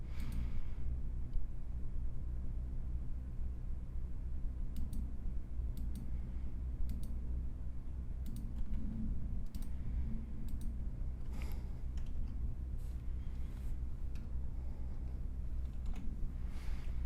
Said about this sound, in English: I started typing some of the commands into chat as well.